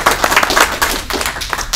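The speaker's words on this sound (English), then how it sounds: "Let's give him a round of applause." Seminar audience at Gen Con 2014 clapping, a short, close, dense burst of hand claps with sharp individual claps standing out, no talking.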